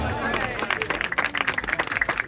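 An audience at a Punjabi mushaira breaks into a short burst of clapping that grows into dense, rapid applause, with voices talking over it.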